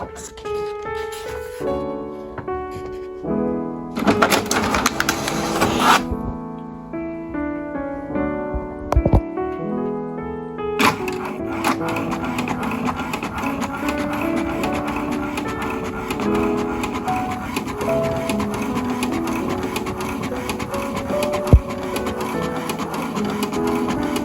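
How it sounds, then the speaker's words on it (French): Home printer printing a colouring page, with repeated mechanical whirring and clicking passes, short rhythmic bursts early and then a sustained, close, busy printing noise. "Du coup là je vais l'imprimer tout de suite."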